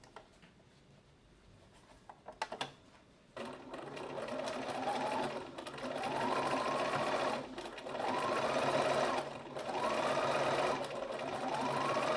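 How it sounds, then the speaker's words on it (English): A sewing machine top stitches a seam in several bursts of rapid, even needle chatter, close and steady, each run starting with a brief rising whine and separated by short pauses, after a few soft handling clicks. "Now I just need to top stitch along the second side"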